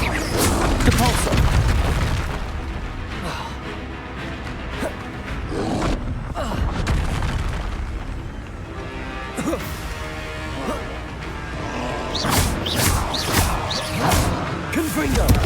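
Depulso spells are cast during a fight in Hogwarts Legacy, with repeated heavy booms, whooshes and crashing impacts throughout, loud and dense, under a voice shouting spell names.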